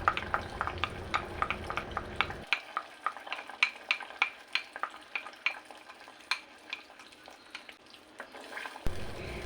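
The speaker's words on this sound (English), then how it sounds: "Mix it all well and let it simmer." A spoon stirs sriracha and banana ketchup wing sauce as it simmers in a pan, with regular scraping strokes about twice a second over a soft sizzle that cuts out partway through, then returns.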